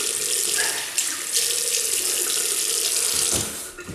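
Tap water running steadily into a sink for rinsing a face, a close continuous splashing flow that eases off at the end.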